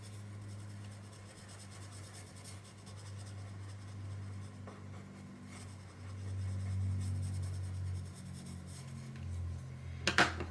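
A white colored pencil rubs softly across paper in steady, scratchy circular strokes, quiet and continuous over a low background hum.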